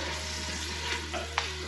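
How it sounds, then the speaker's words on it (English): Onions sizzle and fry in an Instant Pot, a steady hiss over a constant low appliance hum, with a couple of brief stirring clinks. "do you hear that sizzle?"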